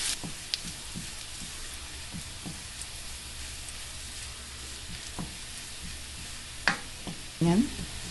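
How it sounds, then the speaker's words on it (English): Garlic fries in a pan until deep brown for a low-fat pancit, a faint continuous sizzle broken by scattered stirring scrapes and a louder clatter near the end. No one speaks. "We like to fry our garlic really nice and brown."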